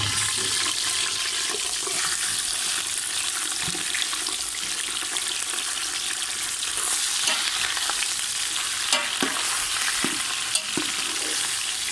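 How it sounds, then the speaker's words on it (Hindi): Meat frying in hot oil in a cooking pot, a dense continuous sizzle with occasional scraping and stirring clicks, loud and close throughout with no speech. "पहले हमने बर्तन ले लिया, इसमें हमने डाल दिया ऑयल। अब इसमें हम डालेंगे गोश्त।"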